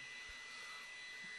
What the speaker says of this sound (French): vous connaissez les CR10 et leur magnifique